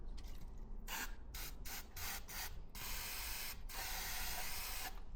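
Carb cleaner sprayed into the carburettor of a Ford Pinto-engined kit car left abandoned for 23 years: several short hissing aerosol bursts followed by two longer sustained sprays, close and loud, with no talking.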